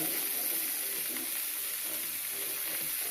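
Hamburger steak sears in a cast iron pan with a steady, close, even sizzle and faint hiss. The sizzle runs unbroken and alone throughout.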